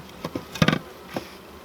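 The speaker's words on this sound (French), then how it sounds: "Des petites abeilles bien agréables, pourtant qui viennent d'un truc sauvage" Wild bees that have never been kept by a beekeeper buzz around hive frames, giving a few short, close buzzing bursts with quiet gaps between them.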